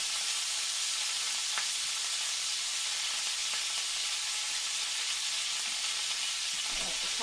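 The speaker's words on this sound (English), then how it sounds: "Let the top sear for a bit." A rack of lamb sears in a hot pan, giving a loud, steady, close sizzle and hiss that runs unbroken throughout, with faint clinks near the end.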